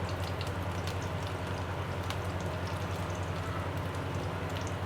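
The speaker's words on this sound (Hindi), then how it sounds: "ब्रेड के ये जो स्क्वायर कट के करके रखे हुए ना पीस, इनको हम इसमें डाल के फ्राई कर लेंगे हल्का हल्का" Bread squares frying lightly in a pan for a sweet dish, giving a steady, dense crackling sizzle without pause and with no talking.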